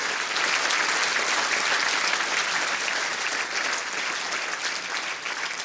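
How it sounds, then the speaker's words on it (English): Steady, dense applause from an indoor audience at the World Indoor Bowls Championship, greeting the two finalists; the clapping is loud and sustained throughout with no voices above it. "How about another nice round of applause for our two finalists?"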